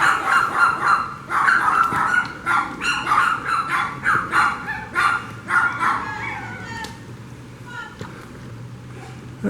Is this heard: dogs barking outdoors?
yes